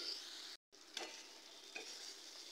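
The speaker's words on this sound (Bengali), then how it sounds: "আমি, কিন্তু লো ফ্লেমে মশলাটাকে কষাচ্ছি।" Spice paste sautéing slowly on a low flame, a soft, faint sizzle with scraping stirs, broken by a brief silent gap and a few louder stirring knocks.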